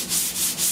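A sanding block rubs back and forth over primer on the roof of a 1969 C10 pickup, making a close, steady scraping hiss in three quick, even strokes.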